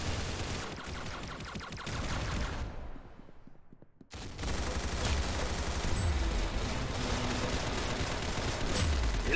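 Gunfire in the video game Roblox Arsenal played on a controller with gyro aiming: dense, loud rapid shots throughout, breaking off briefly around three seconds with a short sweeping sound before the firing resumes.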